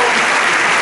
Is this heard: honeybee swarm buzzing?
no